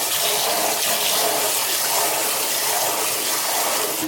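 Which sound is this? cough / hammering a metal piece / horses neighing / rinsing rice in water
rinsing rice in water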